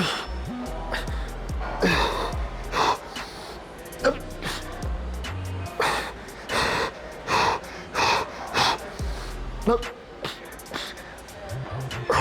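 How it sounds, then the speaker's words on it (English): Forceful grunts and heavy breathing during a full-body gym workout for footballers, repeating in short explosive bursts about once a second, close and loud over a steady background hum. "Grunting noises are a must, boys."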